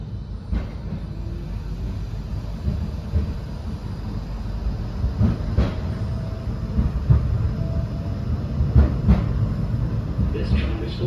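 A Blackpool tram runs along the tramway from Starr Gate toward Fleetwood Ferry, heard from inside as a continuous low rumble with rattles, clunks and occasional squeaks from the rails, with voices audible.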